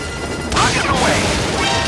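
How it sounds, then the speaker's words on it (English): Rockets fired from a support helicopter in Metal Gear Solid V burst out suddenly as a loud, close whoosh, with whistling streaks trailing over a dense roar of battle noise. "Rockets away."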